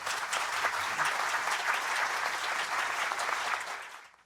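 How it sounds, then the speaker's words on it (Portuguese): Audience applause honouring Fernando Holanda at the opening of a seminar on inflation and growth: a sustained burst of many hands clapping in a hall, steady and full, then tapering off at the end. "fazer realmente aqui uma salva de palmas"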